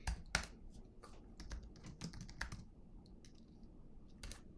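Short bursts of keystrokes on a Mac keyboard while a git add command is typed, a few sharp close clicks spaced irregularly over a quiet room with no speech.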